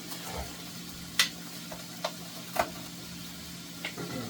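Bacon, onions and mushrooms fry in a pan with a soft, steady sizzle, broken by a few sharp clinks and taps of stirring.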